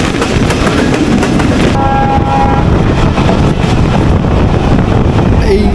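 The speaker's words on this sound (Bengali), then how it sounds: "আমরা আজকে জার্নি করব মোংলা কমিউটার ট্রেনে" A Mongla commuter local train runs in Bangladesh, recorded from on board. It makes a loud, constant rumble mixed with heavy wind buffeting, and a brief steady tone rises partway through.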